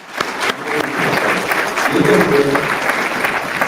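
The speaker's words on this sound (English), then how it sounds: "Everybody, give a hand clap to Dr." An audience applauding Dr. Bashir as he takes the floor, loud dense clapping sustained throughout and building slightly toward the middle.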